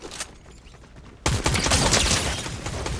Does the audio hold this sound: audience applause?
no